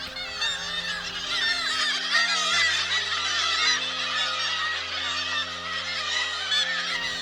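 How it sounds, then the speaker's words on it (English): Kittiwakes call from a seabird cliff colony on the rocky coast at the Bullers of Buchan, sending up a dense, continuous chorus of overlapping nasal cries. The calling is loud and unbroken, with no voices. "Kittiwakes get their name from the distinctive calling of their name."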